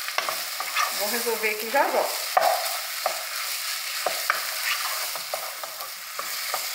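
Linguiça sausage sizzles in a pan as a spoon scrapes and stirs it in bursts, with a short remark spoken over the frying.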